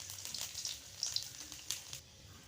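A bay leaf dropped into hot oil in a pan while cooking a vegetarian taro-leaf dish, giving a moderate crackling sizzle with a few sharper pops that fades out near the end, no talking.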